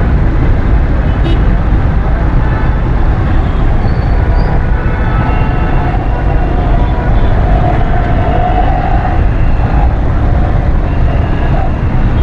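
Heavy evening road traffic near Bilawal House Chowrangi in Karachi forms a loud, constant roar of engines and rolling vehicles that never lets up.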